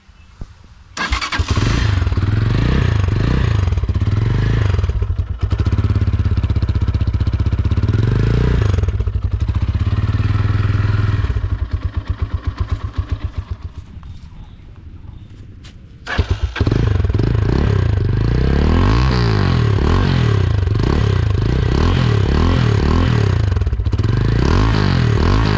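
A Loncin GP motorcycle, second-hand, starting up and idling in neutral: the engine catches and settles into a loud, steady close-up idle, briefly drops, then returns to a strong running rumble.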